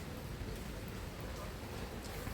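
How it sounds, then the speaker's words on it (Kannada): Rain falling outdoors, a steady, even hiss of drops that is faint and continuous with no voices. "ಮಳೆ ಮಳೆ ಮಳೆ ಬರ್ತಾ ಇದೆ"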